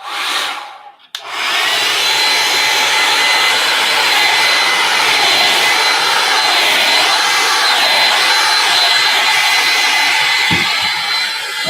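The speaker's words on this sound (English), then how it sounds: "And that is a blow dryer." A blow dryer switches on after a brief pause and runs steadily with a loud whooshing whine, alone and continuous to the end.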